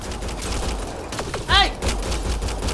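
Gunfire in the video game Mass Effect Andromeda, a burst of weapon shots among combat effects and a rising whine, with voices talking over the action.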